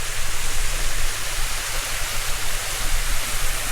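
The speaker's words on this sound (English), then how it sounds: "Oh, there's another little waterfall there." A small waterfall on a scenic hillside pours in a steady, dense broadband rush that stays loud and constant throughout, with no voices over it.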